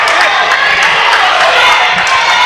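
Proctor basketball fans cheering in a school gym during a close championship game, a loud, steady roar of crowd noise filling the space without a break.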